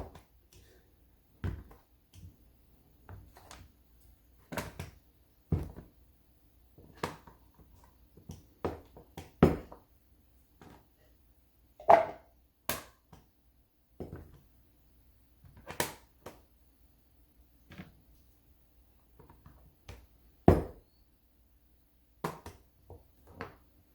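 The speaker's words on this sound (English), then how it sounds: "I'm gonna go ahead and get the second block cut up as well" Knife cutting through a block of melt-and-pour goat's milk soap base, giving a string of sharp, close, isolated chops and snaps at an irregular rhythm with quiet gaps between them.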